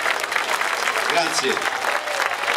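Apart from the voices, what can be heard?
audience applause at a lyra festival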